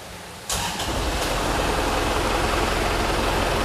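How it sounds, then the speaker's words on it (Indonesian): A noisy Isuzu Panther diesel engine with strong vibration cranks, catches and then settles into a loud, continuous, rough rumbling idle, heard close with no voices. "Ini kondisi mesin menyala, setir bergetar."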